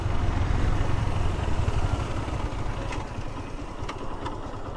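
A motorcycle engine runs in gear outdoors on a hill road at Nilgiri, with a steady low rumble that is loud at first and eases slightly, and no talk over it.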